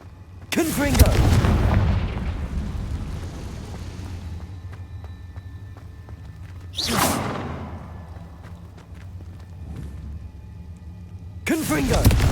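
Confringo spell explosions in the game Hogwarts Legacy: three sharp, loud blasts spaced several seconds apart, each with a booming low rumble and crackling tail that fades out, with faint background ambience between them.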